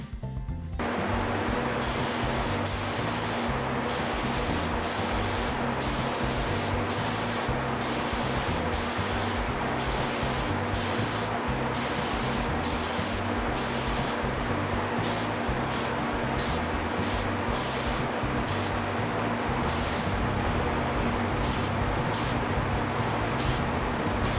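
A gravity-fed spray gun lays two-component paint onto metal in a steady, loud, unbroken hiss that runs throughout with no pauses and no talking.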